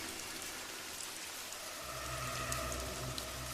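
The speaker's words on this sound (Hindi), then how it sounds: "बारिश अब पहले से भी ज्यादा तेज हो चुकी थी" Heavy rain pours steadily, a dense hiss that thickens and grows louder partway through, with a low rumbling undertone.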